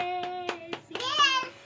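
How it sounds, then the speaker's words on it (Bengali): Hands clapping in a steady rhythm at a home birthday cake-cutting, about six claps spaced evenly under a voice singing or chanting nearby. "হাততালি দাও পাপা"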